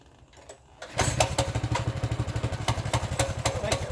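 A Baja Warrior 200cc motorbike starts up with the choke on after a few quiet clicks, then settles into a loud, steady, rapid idle thump close by.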